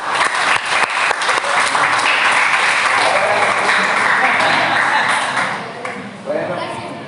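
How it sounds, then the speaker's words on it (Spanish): Applause at a Christmas gathering with children, loud close clapping from a group that builds into a steady roar and thins slightly near the end, with voices mixed in. "Un fuerte aplauso."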